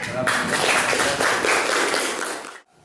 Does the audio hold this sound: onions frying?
no